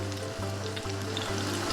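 Chicken fillet cutlets sizzle steadily in a frying pan, a close, continuous crackle with a low hum underneath and no talking.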